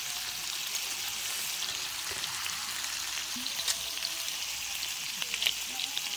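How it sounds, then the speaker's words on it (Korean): Cheese grilling in pork belly fat at a campsite, a soft steady sizzle with occasional small pops and crackles, close but fairly quiet throughout. "치즈를 삼겹살 기름에 촉촉히 적신 다음에"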